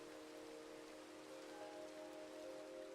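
Minecraft rain pours in a constant even hiss with a faint droning tone running through it, steady throughout and free of any talk.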